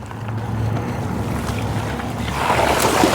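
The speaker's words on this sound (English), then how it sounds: "Go through some water here." An Engwe Engine Pro electric bike ploughs through deep water, a continuous rushing, splashing wash that holds steady and grows slightly louder toward the end, with no voices.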